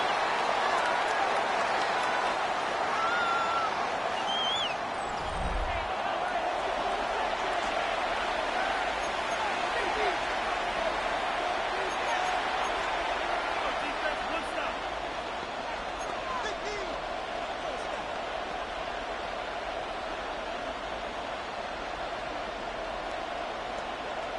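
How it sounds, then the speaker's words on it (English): An American football stadium crowd roars steadily through a late third-down play, a dense, continuous wash of cheering that holds at an even level from start to finish. "This crowd into it now as we get to 3rd down."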